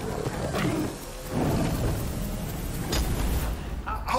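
A tiger in the film RRR roars loudly in deep, rumbling bursts, with a film soundtrack behind it and people talking over the sound.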